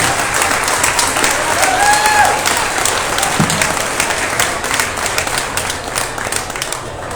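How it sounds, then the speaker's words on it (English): A crowd at the Dearborn County Fair livestock auction gives a young exhibitor a big round of applause, dense steady clapping that stays strong and slowly eases, with a few voices mixed in. "How about we give this young man right here a big round of applause from Dearborn County"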